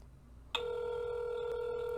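A telephone call rings out before going to voicemail, a short burst of background noise and then an abrupt, steady electronic tone that holds unbroken to the end.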